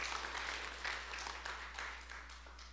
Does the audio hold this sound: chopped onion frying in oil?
no